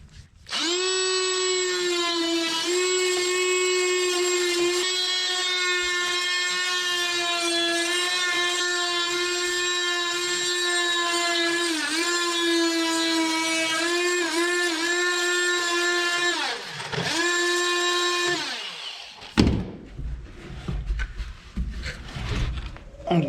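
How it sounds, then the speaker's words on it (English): An oscillating multi-tool cuts wood at the back of a boat's frame during shaping of the sheer clamp, giving a loud, close, steady buzzing whine that wavers slightly, runs for about twenty seconds, then cuts off, followed by brief clatter. "I'm going to start using my oscillating tool to cut out to the back of the frame"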